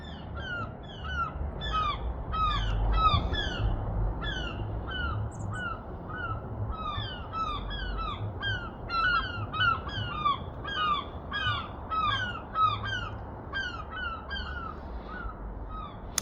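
Gulls calling outdoors in the Pacific Northwest, a steady chorus of repeated high squawks and cries, some near and some farther off, layered over a low rumble of background noise.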